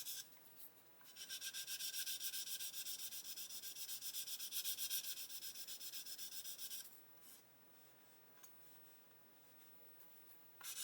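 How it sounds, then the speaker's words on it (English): Sanding stick rubbed over a model kit panel to erase pencil marks, a steady dense scratchy abrasion that runs for several seconds, then drops to quieter, lighter strokes near the end, with no talk. "I'm just going to keep sanding until that pencil disappears"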